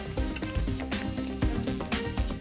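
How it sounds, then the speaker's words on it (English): Scallops pan-frying in foaming butter make a loud, close, crackling sizzle that holds steady throughout, with background music playing alongside. "I'm just going to cook these scallops."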